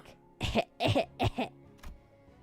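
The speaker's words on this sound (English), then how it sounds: "Linton was coughing harshly between every couple of words." Harsh coughing from a Limbus Company video game character, three or four rough, close coughs in quick succession followed by a fainter trailing breath.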